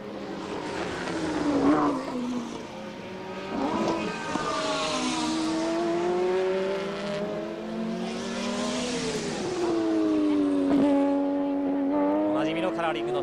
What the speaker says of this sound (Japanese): シルカッチアガー、 直線を走っております。